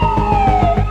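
A loud, close ambulance siren on a New York street wailing with a steady slowly falling tone, throbbing rhythmically over engine rumble.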